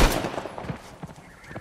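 Ambush gunfire in the video game Uncharted: The Lost Legacy: loud, rapid bursts of shots crackle close by in a dense, uneven volley across the whole moment.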